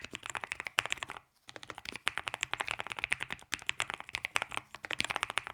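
Rapid, clicky mechanical keyboard typing up close, a dense stream of keystrokes with a brief pause, crisp and steady.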